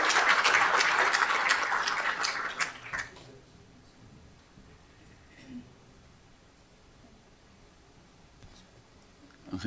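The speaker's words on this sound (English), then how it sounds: "join me for one round of applause for the Kiwanis Club" Audience applause at a school board meeting, a burst of clapping for about three seconds that stops abruptly, followed by quiet room noise and faint rustling.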